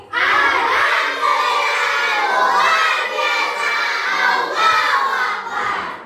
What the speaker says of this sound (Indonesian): Itu suara teriakan yang membuat Ibu semangat untuk mengajar kalian.